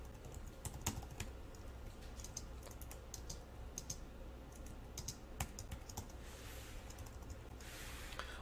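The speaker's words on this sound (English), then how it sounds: "I start typing the next line of code" Steady keyboard typing while entering a line of JavaScript code on a computer, with quiet, rapid key clicks running continuously over a low background hum.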